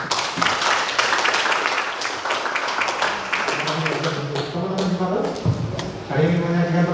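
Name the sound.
audience applause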